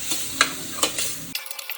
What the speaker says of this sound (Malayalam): നമ്മൾ നല്ലോണം ഒന്ന് ഇളക്കിയിട്ട് ഈ തക്കാളി നല്ല ഉടനെ ഇതിലേക്ക് ചേർക്കണം